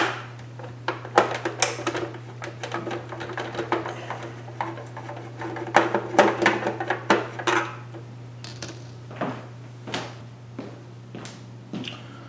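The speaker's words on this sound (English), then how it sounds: "We're just going to flip the device over, start taking out our screws." Screws being backed out of a SEGA Saturn console with a screwdriver: a close run of small metallic clicks, taps and rattles at an uneven rhythm over a steady low hum, with no talking.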